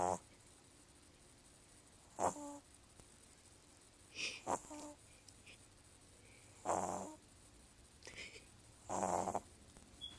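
A person snores in faint, raspy breaths that repeat roughly every two seconds over a low steady hiss.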